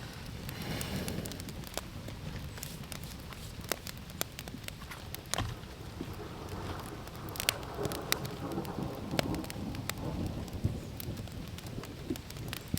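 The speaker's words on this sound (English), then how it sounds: "So the thunder and lightning is pretty distant now, and it's just lightly raining." Light rain pattering on a campsite during a canoe camping trip, steady and soft, with scattered close drops and only very faint, distant rumbles of a storm moving away.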